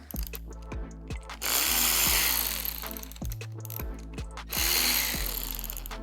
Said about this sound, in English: And how quick does this ratchet make the job?